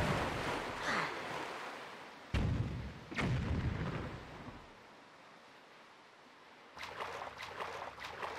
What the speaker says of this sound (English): Ah, bombs!